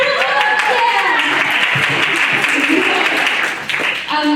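Applause from the audience at a senior center variety show, clapping that rises beneath a speaking voice, which carries on over and around it.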